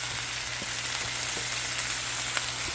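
Brussels sprouts with bacon and chicken sizzling and frying in a pan, a steady close hiss with occasional soft pops and stirring clicks, no talking.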